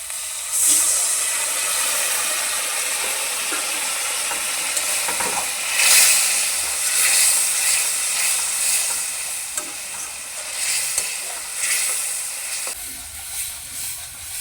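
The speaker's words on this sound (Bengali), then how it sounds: "মশলাটাকে কষিয়ে নেওয়ার জন্য একটু জল দিয়ে দিচ্ছি।" Frying spice paste with coriander powder for a mushroom curry bursts into a loud hiss as water is poured in, then settles into a steady sizzle under repeated stirring and scraping.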